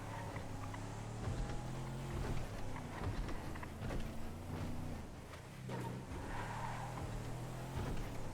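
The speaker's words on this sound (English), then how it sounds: "Oh god, I haven't driven this truck in a while." A truck drives in a video game, its engine a loud, steady rumble with wheel and surface noise rising and falling, heard alone without talk.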